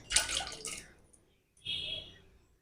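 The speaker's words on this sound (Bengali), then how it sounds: "অল্প করে জল দিলাম" A little water poured into a pan of jackfruit seeds, two short splashy pours separated by a brief pause, close and fairly soft.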